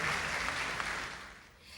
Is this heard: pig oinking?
no